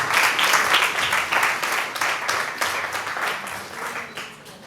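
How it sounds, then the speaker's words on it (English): An audience at a university Women's Day event claps together in sustained applause, a dense crackle of many hands that swells and slowly fades over a few seconds. "Please give them a round of applause."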